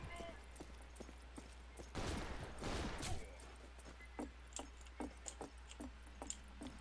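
Gunfire in the Western shooter game Fistful of Frags: a dense burst of shots around two to three seconds, then scattered sharp reports and clicks continuing at moderate level.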